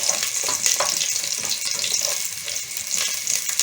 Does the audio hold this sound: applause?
no